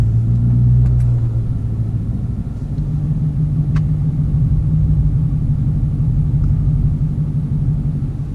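A car driving slowly along a flooded road beside the Intracoastal Waterway in Socastee, South Carolina, giving a loud, steady low engine rumble close up for the whole stretch, with a slight rise in the first second.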